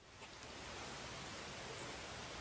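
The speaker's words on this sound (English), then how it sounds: "Well, the rain's here, so this is the last one I'm steaming for today." Steady rain falls outdoors at a wood-steaming setup for hickory staves, a dense, even hiss that stays constant and moderately loud throughout with no talk.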